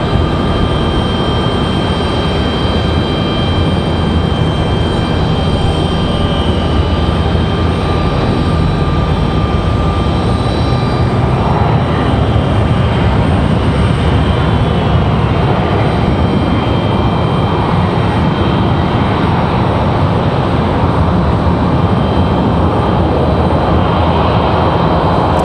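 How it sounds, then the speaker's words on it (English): A FedEx ATR turboprop at Raleigh-Durham airport gives off a loud, continuous propeller and engine drone with steady tonal hums running through the whole stretch. "Let's go over here to our FedEx ATR."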